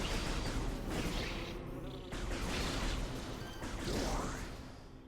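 War wasps from Metroid Prime Remastered buzz steadily in a game scene, a continuous insect drone with swooping whooshes as they fly past, loud and close throughout with no talk.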